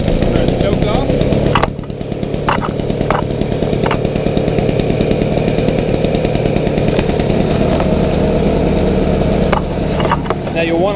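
A gas-powered backyard mosquito control sprayer engine starts with a pull and settles into a steady, loud, close running drone, with a few brief clicks and knocks over it.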